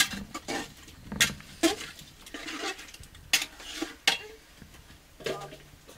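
Potato and radish pieces being stirred in a cooking pot for a village chicken curry, with scattered sharp clinks and scrapes of a spoon against the pot at irregular intervals.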